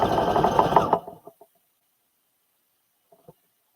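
A sewing machine runs a zigzag stitch in a quick, rattling burst of about a second, then stops, followed by a few faint clicks and taps in near silence.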